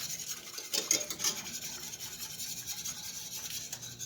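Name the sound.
stirring a roux in a pan for smoked mac and cheese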